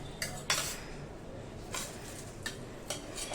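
Garlic-coconut chutney is scraped from a pan into a bowl, and metal utensils strike the dishes in about six sharp clinks and scrapes at irregular intervals over a quiet background.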